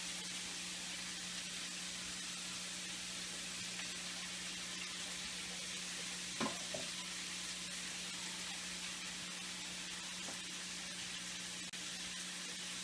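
Beef frying in oil for a Mexico City mole de olla beef soup, a steady faint sizzle running throughout with one brief louder crackle midway.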